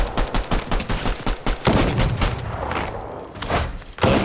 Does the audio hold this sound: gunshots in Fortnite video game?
yes